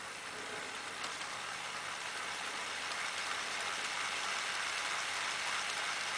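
A model locomotive runs on a layout with a steady, faint mechanical whir and light gear ratcheting that slowly builds as it accelerates toward full speed, with no talking.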